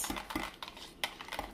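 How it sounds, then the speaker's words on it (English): A whisk or utensil stirs mica into cold-process soap batter in a container, making soft, irregular clinks and light taps against the sides, close and quiet, with no talking. "You want to mix that mica in there real good."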